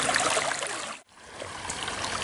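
Water rushing steadily through a homemade sluice, a continuous close splashing flow that cuts off briefly before resuming.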